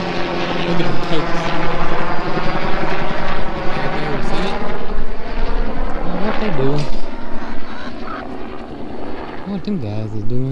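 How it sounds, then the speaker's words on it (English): Helicopter flying overhead above a farm, giving a loud rotor and engine drone throughout, with people talking over it. "Look, there's a helicopter coming."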